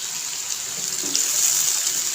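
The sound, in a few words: water being added to anda masala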